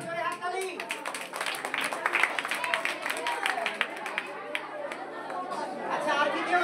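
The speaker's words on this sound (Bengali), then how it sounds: "হাততালি।" An audience applauds at a prize-giving during a drama and song event, with scattered clapping mixed into steady crowd chatter and murmur throughout.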